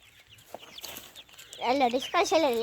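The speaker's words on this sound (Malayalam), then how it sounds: "ഇത് മറ്റേ കോഴികളാണ്" Chickens cluck nearby in a short run of rising, warbling calls that grow louder toward the end, following quieter scattered farmyard noise and faint voices.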